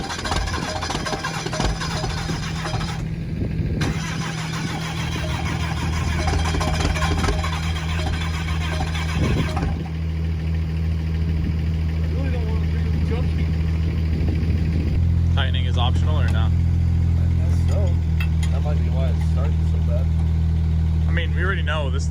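A 2005 6.7L Cummins diesel on a deckplate setup cranks steadily and then catches on its first fire, settling into a loud, low rumbling idle with a few revs, close up with voices talking over it.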